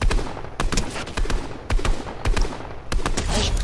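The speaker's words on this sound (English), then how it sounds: "Oh, I hear some gunshots." Bursts of gunfire crack out in Fortnite, several short volleys at a rapid, uneven rhythm, fairly loud and sharp with brief gaps between shots.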